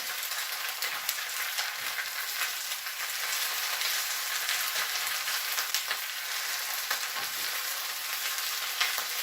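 Leafy greens wilting in a hot pan for an African coconut curry, a steady dense sizzle and crackle running throughout with occasional soft stirring and pressing sounds from a spatula.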